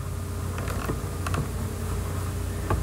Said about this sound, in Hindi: और मैं एंटर कर देता हूँ।